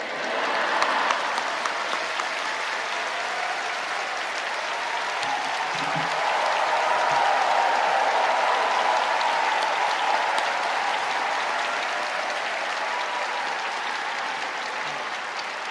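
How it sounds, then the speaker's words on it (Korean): A church congregation at Yoido Full Gospel Church applauds to welcome the pastor, a long, even roar of many hands clapping that swells slightly midway and holds steady for the whole stretch, with no speech. "나오실 때 할렐루야로 박수로 맞이하겠습니다."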